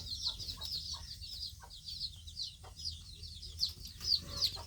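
Free-range country chickens on a poultry farm cluck repeatedly in short, bright calls spread through the clip, moderately close but fairly quiet over a low background rumble.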